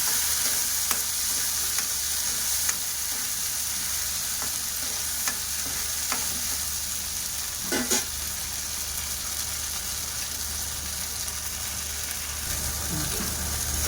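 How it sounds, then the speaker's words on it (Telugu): Masala paste fries with onions in a pan for mushroom curry, giving a steady close hiss and sizzle that runs throughout, with a few soft stirring clicks and a brief scrape near the middle. "ఈ మసాలా అయితే వేసేద్దాం. వేసేసి ఇది ఒక 2-3 minutes ఫ్రై చేసుకోండి"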